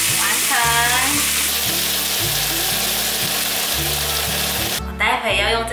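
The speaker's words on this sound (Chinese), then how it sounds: "所有食材都炒熟后，也炒香了" Ingredients stir-frying in a wok with black pepper make a loud, dense sizzle under repeated scraping and clanking of a utensil against the pan in a steady rhythm, with a brief voice near the end.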